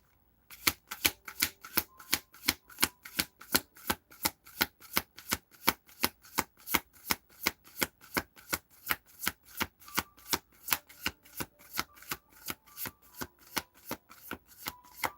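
A deck of tarot cards is shuffled over and over in a fast, steady rhythm of crisp riffling bursts, close and moderately loud, with no voices.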